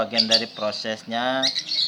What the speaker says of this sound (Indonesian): burung kita tuh gacor meskipun nanti ngeriwik